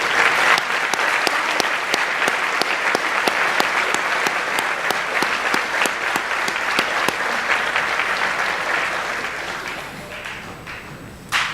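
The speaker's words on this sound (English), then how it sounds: "why don't you stand and we'll give all of you an applause" School awards-day audience giving a long round of applause, dense and steady with individual sharp claps popping out near the front, tapering off toward the end.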